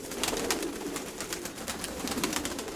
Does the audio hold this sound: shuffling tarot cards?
no